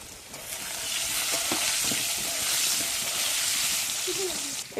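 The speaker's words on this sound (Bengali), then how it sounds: "এখানে আমি লবণ হলুদ দিয়ে আলুটা ভেজে নেব।" Potatoes fry in a pan with salt and turmeric, giving a steady hissing sizzle close by, broken by a few stirring scrapes, while a voice speaks softly over it.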